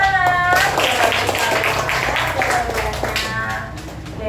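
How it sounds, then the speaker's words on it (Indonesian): Students clap together in a classroom, a dense burst of applause that holds steady for several seconds, with voices mixed in under it. "Oke, tepuk tangan."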